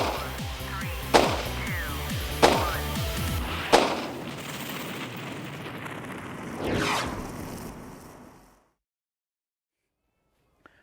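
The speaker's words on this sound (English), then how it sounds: "we've brought 3 recoil guns out today to have a look at" Three airsoft recoil guns fire in sequence, sharp loud reports at roughly even intervals, followed by a quieter mechanical burst with a buzzing ring before the sound cuts to silence.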